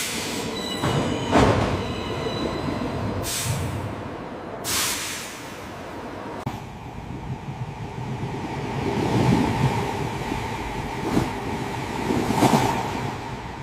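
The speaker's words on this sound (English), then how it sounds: "The train winds through mountains." A train rolls along rails through mountains with a steady low rumble of wheels, sharp bursts of hiss and squeal rising and fading at intervals, loud and continuous.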